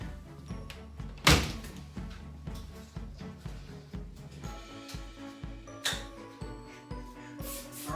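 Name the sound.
shower glass door being closed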